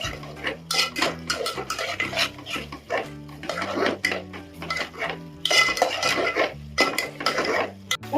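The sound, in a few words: sautéing biryani masala with curd in a pot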